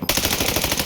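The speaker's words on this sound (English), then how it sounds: "I love how much better the hip fire is on Black Ops 7 guns" Rapid automatic gunfire from Black Ops 7 guns in a Warzone video game, a continuous loud burst of hip-fire shots right after a brief silent start.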